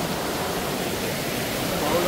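Rushing water of a stream or waterfall in the Sahyadri hills pours in a dense, steady roar, loud and close throughout.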